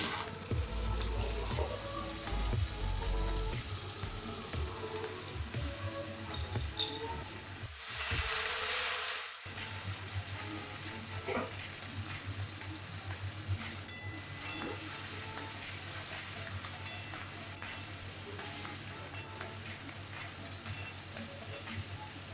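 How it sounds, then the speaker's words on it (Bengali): Chopped vegetables, including yardlong beans, stir-fry in hot oil for veg chowmein, giving a loud steady sizzle with scraping stirs and a brief surge of hiss partway through. "সেগুলো একে একে দিয়ে ভালো করে নেড়ে চেড়ে ভেজে নেব"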